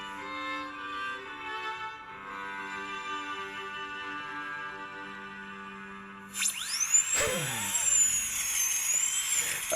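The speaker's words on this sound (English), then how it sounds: "This is a dentist drill." In the video game The Council, a high, whining dentist's drill starts partway through with wavering, sweeping pitch, after a stretch of sustained tonal game music.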